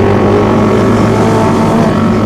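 Big motorcycle engine being revved hard during a Sunday morning group ride, a loud continuous roaring drone held close by without a break.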